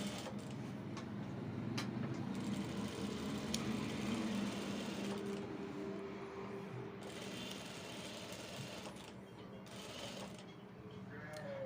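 Sewing machine running continuously while stitching the sleeve of a men's kurta, a steady close mechanical whir with slight speed variations and no speech.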